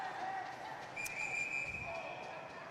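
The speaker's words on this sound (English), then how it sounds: "A little bit of jawing, too, going on after the whistle as Lockhart goes off into the box right now" Referee's whistle at an under-18 versus under-16 AAA ice hockey game, a single sharp steady tone lasting about two seconds over crowd noise and arena chatter.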